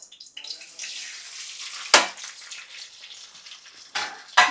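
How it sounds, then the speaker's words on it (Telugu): Tempering spices frying in about two tablespoons of oil in a pan, a close, continuous sizzle broken by a few sharp, loud scraping stirs of a spoon against the pan. "ఇవన్నీ వేసుకుని ఫ్రై చేసుకోవాలి."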